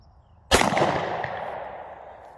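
One sharp, loud report from an Altor 9mm single-shot pistol with a short barrel, fired outdoors at a target, followed by a long fading echo.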